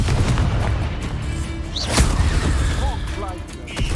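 A Confringo blasting spell goes off in Hogwarts Legacy with a sharp, loud burst near the middle, set among dense game effects and a continuous low rumble, followed by brief whooshing spell sounds.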